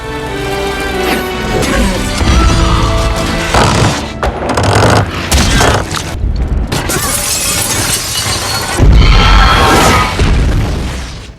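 Loud, chaotic black powder explosion blasts and crashing debris with shattering sounds, several heavy booms in succession over a dense, roaring background.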